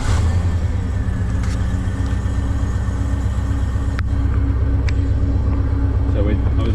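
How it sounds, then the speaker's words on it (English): A car fitted with an LS1 V8 engine idles with a deep, steady low rumble, close and continuous throughout, while someone talks over it. "So if I start the car,"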